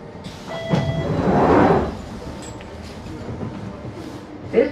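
A London Underground Jubilee line 1996 stock train arrives at Stratford station, its rumble swelling to a broad peak and then easing off, with a short tone and a brief clunk near the end, against background station noise.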